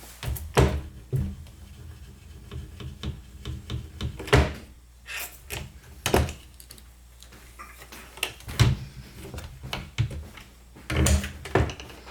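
A drawer fitted with a Munchkin Xtraguard child safety latch is pulled and pushed repeatedly, giving sharp clicks, knocks and thunks at irregular intervals, close by and without speech.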